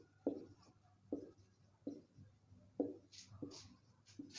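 Marker or chalk writing an equation on a board during a maths lesson: short, quiet, scratchy strokes in an uneven rhythm, close by, with no talk.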